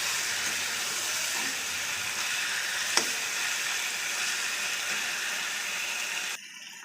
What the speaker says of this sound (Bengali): এবার আমি ভালো করে একটু মাংসটাকে কষিয়ে নিব